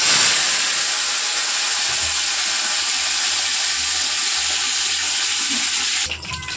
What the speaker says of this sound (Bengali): এবারে আমি ফুলকপিগুলো একটু ভেজে নেব